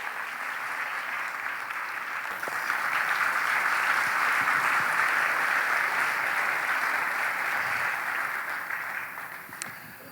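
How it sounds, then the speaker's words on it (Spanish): Applause from a church congregation welcoming a pastor at a 25th anniversary service, steady dense clapping that swells after a couple of seconds, holds loud, then tapers toward the end. "Un fuerte aplauso para él."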